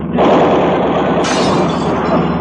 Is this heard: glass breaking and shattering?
yes